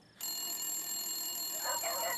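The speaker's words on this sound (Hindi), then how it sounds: "आ गया टाटा भाभी का फोन।" A telephone rings with a continuous electronic trill, steady and moderately loud, starting abruptly after a brief quiet moment.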